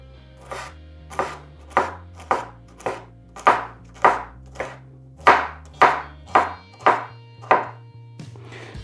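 A kitchen knife chops bell pepper on a cutting board in a run of about fifteen crisp, evenly spaced strikes, each a sharp close thunk with a short decay, heard alone.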